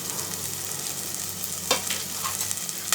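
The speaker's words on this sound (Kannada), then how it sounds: "ಅದು ಆಯಿಲ್ ಕಾದಿದೆ. ಒಂದು ದೊಪ್ಪದು ಆನಿಯನ್ ಕಟ್ ಮಾಡಿ ಇಟ್ಕೊಂಡಿದೆ, ಹಾಕೊಂಬಿಡೋಣ. ಅದರ ಜೊತೆಗೇ ಸ್ವಲ್ಪ ಕರಿಬೇವು." Onion and curry leaves fry in hot oil with a steady, soft sizzle that crackles faintly, plus a brief stir partway through. No voices.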